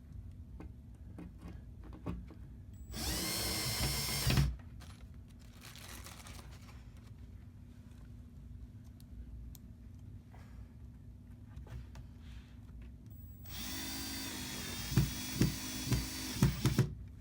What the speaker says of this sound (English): I have a longer drill bit